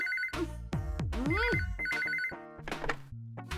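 A cell phone rings during a scene in a Hindi-dubbed film, giving short repeated trilling bursts. Sweeping, swooshing score and effects sound around the ringing.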